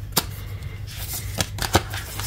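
Playing cards being handled and shuffled, with a few sharp riffling snaps and softer sliding rustles over a steady low hum, close and fairly quiet, no talking.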